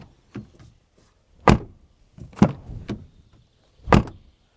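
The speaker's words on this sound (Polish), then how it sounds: "posłuchamy, czy drzwi się zamykają z należytą kulturą" A JAC JS6 car door being opened and shut several times, with sharp, close thuds and latch clicks spaced about a second apart, separated by near silence.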